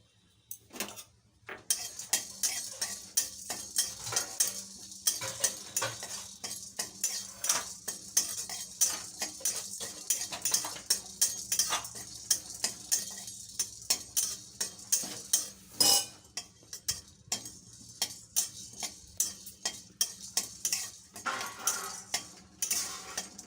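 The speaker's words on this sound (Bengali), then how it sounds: "প্রথমে গ্যাসটাকে লো ফ্লেমে রেখে এই গোটা মশলাগুলোকে শুকনো খোলায় ভেজে নেব।" Whole spices, including cardamom, peppercorns and cloves, dry-roast in a dry pan over a low flame. Close metallic clinks, rattles and scraping from steady stirring continue throughout.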